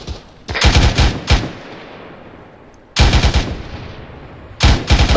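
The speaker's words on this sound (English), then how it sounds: "2-4 has 1-240 putting down suppressive fire on the industrial complex to your guys' north" Bursts of M240 machine gun suppressive fire in a combat video game, three loud rapid volleys of close, sharp automatic shots separated by brief pauses, with no talk.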